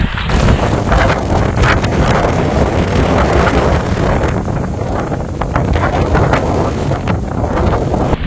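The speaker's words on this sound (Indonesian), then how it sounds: "Anginnya masih maksimal kencangnya nih." Strong wind roars across an exposed ridge on Mount Ungaran, a loud, steady buffeting with constant gusting rumble and microphone wind noise throughout.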